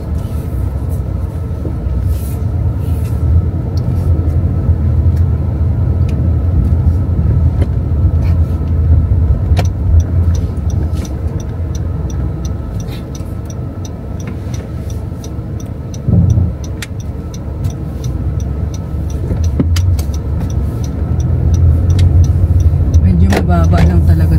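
Inside a car driving fast on an American road, a heavy, constant road and engine rumble runs throughout with a brief bump partway through, and a voice talks intermittently over the noise.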